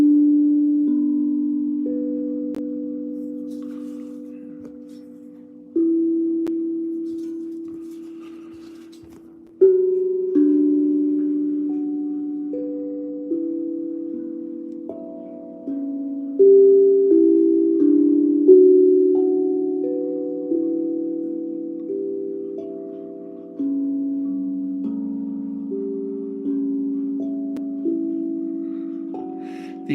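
Soft tonal notes from a panda-shaped steel tongue drum played slowly in a gentle melody, each struck note ringing out and decaying, close and alone without talking.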